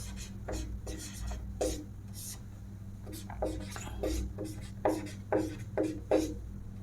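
Chalk or marker scraping in short rhythmic strokes on a classroom board during a Hindi grammar lesson, a quiet steady series of rubbing bursts over a low hum.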